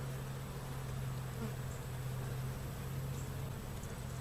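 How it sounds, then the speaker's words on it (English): Honey bees from a small swarm buzz steadily around their hive, a continuous close hum with no voices. "The bees that are out in the field will come back to this exact same location."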